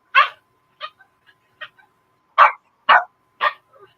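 A dog gives a string of short, close whimpering yips, about seven separate bursts with uneven pauses between them, some louder and some faint, with no other sound in between.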